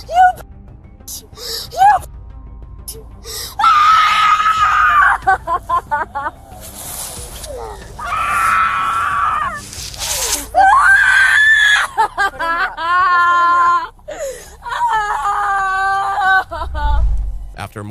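A 19-year-old woman being arrested for criminal trespass screams repeatedly in loud, long bursts with gasps and whimpers between them, and other voices talk at times.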